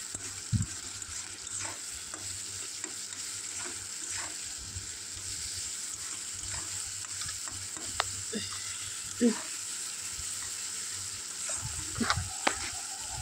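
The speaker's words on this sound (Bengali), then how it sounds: "মশলা দিয়ে ভালো করে কষিয়ে নিতে হবে।" Spices sautéing in a pan for greens with mustard stems, a steady low sizzle under occasional scraping and stirring of a spatula, close and moderately loud throughout.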